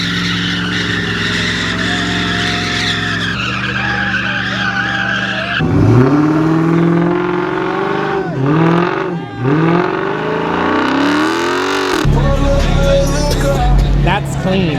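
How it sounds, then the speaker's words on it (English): A car does a burnout at a street car meet: the engine revs hard and rises and falls in pitch, with loud sustained tire squeal and skidding, close by and dominant, with crowd voices faint underneath. "Here, burnout."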